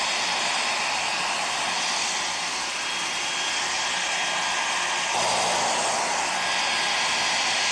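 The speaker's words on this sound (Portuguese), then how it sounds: "agora eu estou há 9 minutos já secando aqui a placa" A hot air blower roars steadily at close range while drying a CNC shield circuit board for an Arduino Nano, a continuous loud whooshing hiss that swells slightly near the end.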